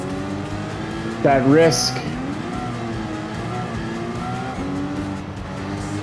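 Gran Turismo race car spinning out during a race in France, with a brief loud burst of tire squeal and skidding over steady engine drone, while a person talks over it.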